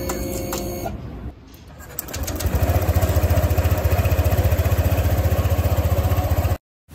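A Honda Click motorcycle engine cranks and catches about two seconds in, then settles into a loud, steady, rapidly pulsing idle before cutting off abruptly near the end.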